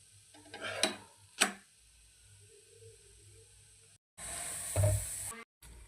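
Besan pudla cooks in a pan over a medium gas flame, giving a faint sizzle broken by a couple of sharp ticks and pops, then a louder burst of hissing near the end, with brief silent gaps between.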